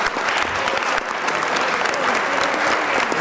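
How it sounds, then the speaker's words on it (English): An audience at a community justice and peace gathering applauds a group of professors, a dense, steady wash of clapping that fills the whole span at close, even loudness. "let's give one more hand of applause to these wonderful professors."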